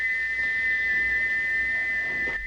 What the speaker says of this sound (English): Gordon went on whistling